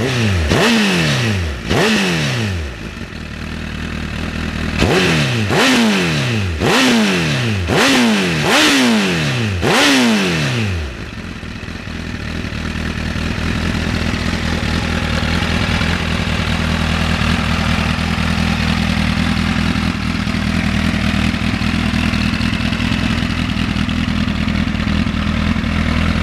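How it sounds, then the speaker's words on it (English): A motorcycle engine rumbles deeply as the rider comes straight off the throttle, giving a series of loud, repeated falling revs in the first ten seconds before it settles into a steady, close idle. "Really nice deep rumble when you come straight off the throttle."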